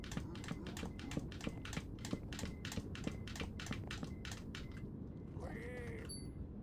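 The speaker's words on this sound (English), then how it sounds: "the keyboard presses like that render through" Computer keyboard keys clicking in a quick, steady run of sharp taps over a constant background hiss, stopping near the end as other faint noises take over.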